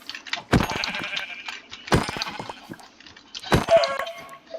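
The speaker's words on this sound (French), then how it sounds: "pourquoi il y a pas des moutons? Ah, si, là-bas il y en a." Sheep bleat three times in a video game, loud and evenly spaced, each call a short wavering cry standing alone without talk.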